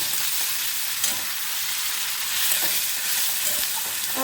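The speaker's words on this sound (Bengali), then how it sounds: "এবার আমি এখানে গ্রেট করা পেঁয়াজটাও দিয়ে দেবো। এটাকে আমি সমস্ত ভেজে নেব হালকা।" Grated onion fries in oil for a Bengali katla fish kaliya, giving a constant close-up crackling hiss with no break and only slight swells in loudness.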